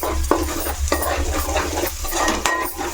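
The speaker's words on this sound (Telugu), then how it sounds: "మసాలాలో మంచిగా ఇట్లా వేయించుకోవాలి" Chili powder, turmeric and salt frying in hot oil as masala for a crab curry, with a steady close sizzle broken by a few scraping stirs of a spoon against the pan.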